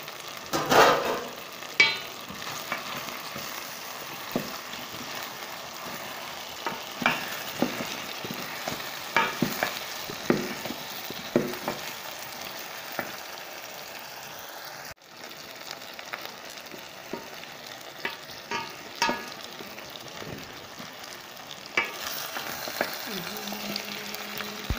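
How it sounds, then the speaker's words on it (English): Arrowroots and onions are stirred in a cooking pot over a fire in an African village, with a spoon scraping and knocking in uneven bursts over a soft, constant sizzle, close and moderately loud. "I'll go ahead and stir my food so that the onions get inside the arrowroots like this."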